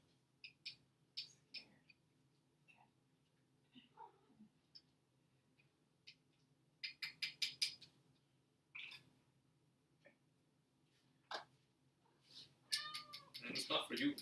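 A house cat meows several times in short, scattered calls, fairly close and clear in a quiet room, with small ticks and bumps between them.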